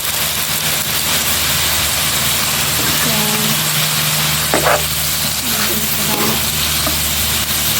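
Tofu and water spinach being stir-fried in a pan at home, giving a steady loud sizzle with occasional clinks of a utensil stirring. A voice talks faintly beneath the frying.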